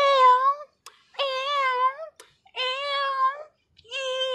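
A human voice imitates a female cat in heat, producing four long, wavering, moan-like yowls with short gaps between them, loud and close.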